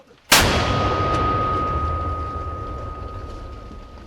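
A single loud mortar blast in a forest combat setting with a sharp onset, followed by a long rumbling echo and a faint lingering ring that slowly fades.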